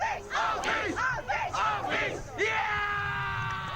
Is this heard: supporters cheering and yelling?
yes